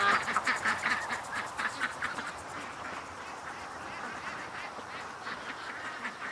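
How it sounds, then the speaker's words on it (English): A flock of ducks quacks repeatedly in a steady, overlapping chatter, moderately close, with many calls blending together outdoors as they fly back toward a lake. "A steady train of ducks going back to the lake."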